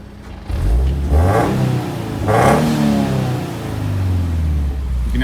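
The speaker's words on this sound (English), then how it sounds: "You can actually hear the blow-off valve now." A turbocharged Subaru FR-S with a straightened exhaust and resonator fitted revs loudly several times, each rise in engine pitch easing off into a lower idle, with the blow-off valve hissing between the rises.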